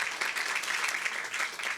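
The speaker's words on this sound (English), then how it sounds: "give it up once again for Justin" Applause at an Arlington ISD board of trustees meeting for a student named Justin: a brief burst of audience clapping, moderately loud and fairly even, with faint voices mixed in.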